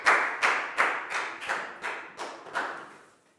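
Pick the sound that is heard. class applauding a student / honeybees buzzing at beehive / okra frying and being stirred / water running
class applauding a student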